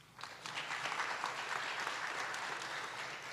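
Attendees at a school board meeting break into applause for tenure recipients, a quick rise into steady, dense clapping from a moderately sized crowd.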